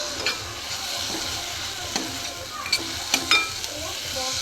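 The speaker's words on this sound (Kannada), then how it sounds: "ಚೆನ್ನಾಗಿ ಫ್ರೈ ಆಗಿದೆ" Sizzling oil in a pan while something is stirred and fried, a steady crackling hiss with several sharper scrapes and clinks of the spatula against the pan.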